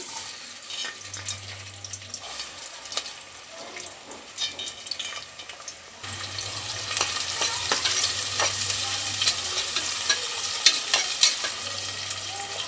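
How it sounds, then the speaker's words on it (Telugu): Onion pieces hit hot oil for goat head curry, sizzling and frying steadily with intermittent stirring scrapes; the sizzle grows louder and denser about halfway through, with no talking. "ఆయిల్ వేడైందండి ఇప్పుడైతే నేను ఉల్లిగడ్డ ముక్కలు వేసుకుంటున్నాను"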